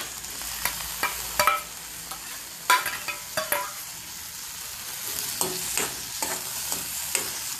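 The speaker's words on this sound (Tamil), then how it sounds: "இப்போ வந்து அடுத்தது நம்மளோட பெரண்டையை போட்டு வதக்கிக்கலாம்." Chopped adamant creeper (pirandai) stirred in a hot pan, with soft steady sizzling and a scatter of sharp scraping clinks from a spatula at uneven intervals, close and fairly quiet.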